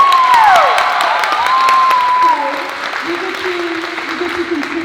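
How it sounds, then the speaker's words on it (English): An audience at a show choir cabaret applauds and cheers, a loud burst of clapping with high whoops and shouts that fades to softer clapping as the cheers trail off. "Round of applause."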